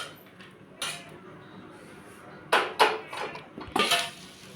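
Coconut and curry leaves being dry-roasted in a pan, with a quiet background and several clattering spoon-against-pan scrapes and knocks, grouped in bursts toward the end.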